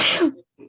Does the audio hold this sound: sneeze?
yes